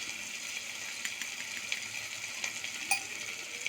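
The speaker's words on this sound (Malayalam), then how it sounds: "ഇനി ഇത് നന്നായി ഒന്ന് സോട്ട് ചെയ്യണം." Chili powder and coriander powder sautéing in a hot pan: a steady, moderate sizzle with light intermittent stirring scrapes and one brief metallic tap near the end.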